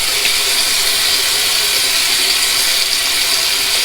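Running tap water rinsing a RazoRock three-piece safety razor, a loud, steady broadband hiss of flowing water close to the sink, continuous throughout with no talk.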